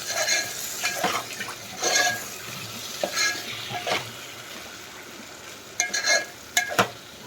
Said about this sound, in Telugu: ఈ ముక్కలకి ఆ కారం పట్టే వరకు ఫ్రై అయిపోయిందండి